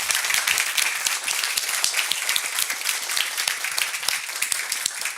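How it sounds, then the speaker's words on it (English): An audience claps continuously, a dense patter of many hands, fairly loud and close, with no voices. "we should give all the researchers that have been presenting a big applause"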